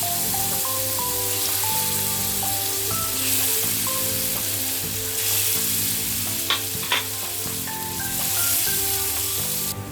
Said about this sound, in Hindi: पनीर हमने जो मैरिनेशन करके रखे थे ये हम एक एक करके फ्राई कर लेते हैं।